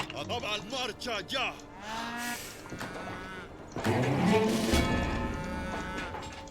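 Cows on a hacienda in the video game Civilization moo in several short, separate calls, followed by a louder, longer, sustained low that fills the second half.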